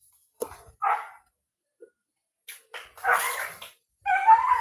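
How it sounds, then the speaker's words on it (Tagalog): Dogs fighting up close, with sharp yelps, growling snarls and short barks in irregular bursts separated by brief silences. "Nag-aaway ang mga aso."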